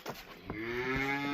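A cow on a livestock farm gives a single drawn-out moo that swells and holds, fairly faint and with no other sound around it.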